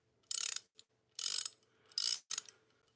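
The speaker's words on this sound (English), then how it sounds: "It's a Cobalt ratcheting wrench." A Cobalt ratcheting wrench clicks in four short bursts of rapid ratchet-pawl ticks, close and crisp against silence.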